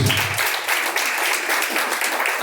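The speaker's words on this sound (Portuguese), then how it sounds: "Palmas que louvam e engrandece a Deus." A congregation at a live Pentecostal church service applauds, giving a loud, continuous roar of many hands clapping throughout, with no break.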